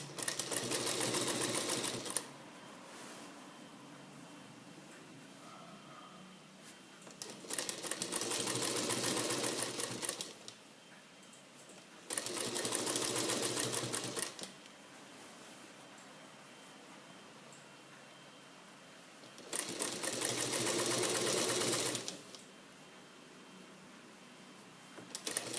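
Sewing machine stitching garment sleeves: three bursts of fast, steady whirring run for several seconds each, separated by quiet pauses with a faint background hum.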